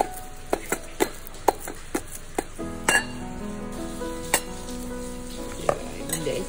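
Sliced bananas sizzle steadily in hot oil in a pan while a utensil stirs them and clinks against the metal in sharp repeated taps, close and loud, with no talking.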